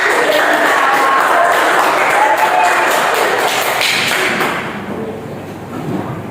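Clapping from a class applauding a student during a geography lesson, a loud, steady patter that thins out toward the end.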